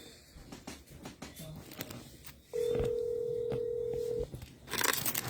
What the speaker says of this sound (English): Let me just return Carrie's call